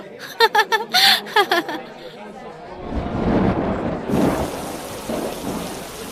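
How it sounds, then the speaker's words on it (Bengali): Steady monsoon rain with low rumbling thunder around a mud house, building after a short burst of chatter; the downpour stays loud and close. "এই তো আবার বৃষ্টি পড়া শুরু হয়েছে"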